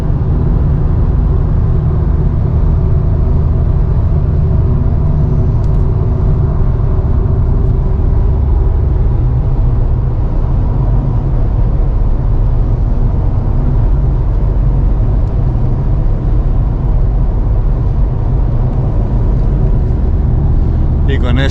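A Volkswagen Golf V GTD with the BMN diesel engine cruises in sixth gear, giving a steady, loud low rumble of engine and road noise that runs unbroken throughout with no voices.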